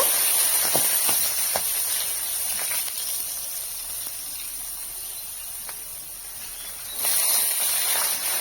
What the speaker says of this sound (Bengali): সেই ছোলাগুলি এখন তেলের ওপরে দিয়ে দেব